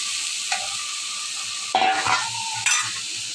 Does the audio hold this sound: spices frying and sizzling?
yes